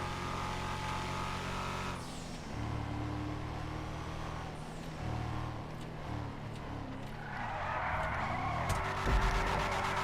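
A car drifting around a drift course, its engine revving and droning as it slides through turns, with tyre noise rising near the end, heard from a moderate distance.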